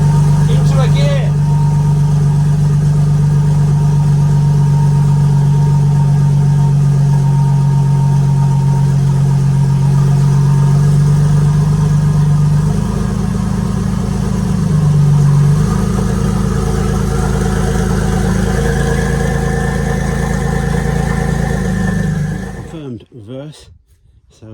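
The twin-turbo rear-wheel-drive V6 engine of a modified Mini idles loudly and close up, a steady low drone with slight shifts in pitch, cutting off abruptly near the end; a voice talks over it.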